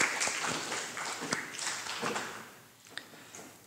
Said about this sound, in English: Polite round of applause.